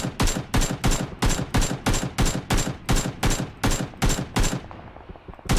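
Rapid bursts of automatic gunfire in PlayerUnknown's Battlegrounds, loud and close, about a dozen evenly spaced volleys in a steady rhythm, then a short pause and one more burst.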